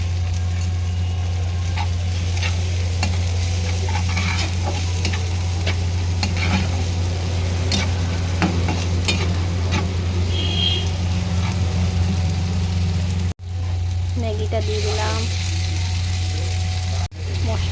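Maggi noodles frying with onion and salt in a pan, with a steady sizzle, intermittent scraping stirs and a low constant hum beneath. The sound is close and continuous, and a voice occasionally speaks over it.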